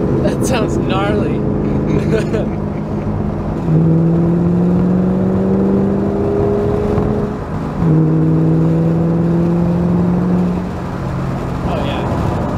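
A tuned car engine revs loudly and steadily, dropping and climbing in pitch twice as the driver downshifts into third gear, a continuous close drone with a brief dip between the two rises.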